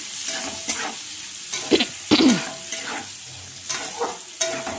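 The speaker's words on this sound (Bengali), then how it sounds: "পেঁয়াজটাকে মশলার সাথে ভালো করে ভেজে নিচ্ছি" Onions fry with spices in a pan for a mutton curry: a steady close sizzle broken by a few sharper scrapes and clatters of a spoon stirring against the pan.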